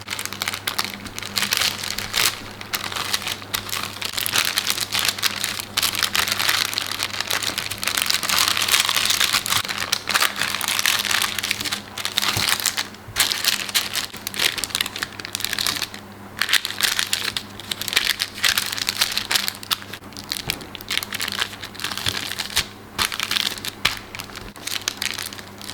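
Parchment paper crinkling and crumpling steadily while baked salmon and vegetables are wrapped inside, a close, continuous rustle with brief pauses and no talk.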